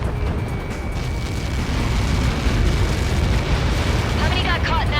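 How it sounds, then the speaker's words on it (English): A massive, sustained explosion rumbles from a Helios projectile impact in the aerial combat game Ace Combat 7, a deep continuous roar filling the scene for several seconds with faint radio chatter near the end. "How many got caught in that explosion?"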